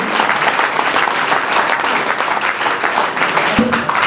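An audience at an awards event at a police ITI (PTRI) claps continuously and densely, a loud, even wash of applause lasting the whole stretch.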